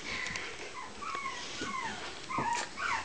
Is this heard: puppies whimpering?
yes